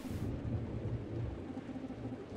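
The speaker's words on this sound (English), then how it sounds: "And it started raining, are you kidding me?" Thunder rumbles low and rolling through the horror game Distraint while rain patters steadily underneath, filling the whole stretch with no speech.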